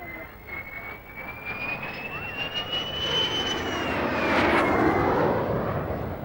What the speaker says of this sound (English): packed to watch Derry fly supersonically in a new de Havilland fighter, the DH-110